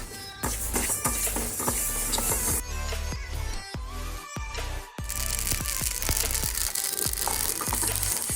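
Fenugreek and mustard seeds roasting in a pan for mango pickle, a dense crackling sizzle with scraping stir strokes, briefly quieter in the middle before the frying noise returns at full strength.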